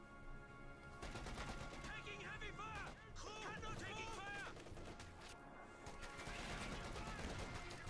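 Rapid machine gun bursts crackle through a Company of Heroes 2 battle, dense overlapping gunfire with sharp impacts and whistling shots, loud and continuous under a commentator's talk.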